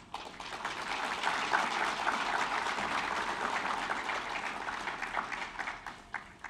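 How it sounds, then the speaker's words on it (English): Applause at a BSBI graduation ceremony for staff members, a crowd clapping steadily and fairly loudly, swelling quickly and then tapering off into scattered claps near the end. "Please join me in giving them a round of applause."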